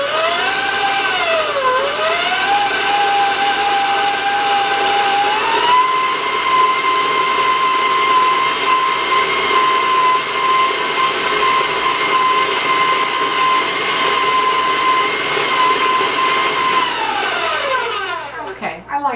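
An electric mixer whirs loudly while blending coconut cookie bar batter, its pitch shifting a couple of times early before holding steady, then spinning down at the end.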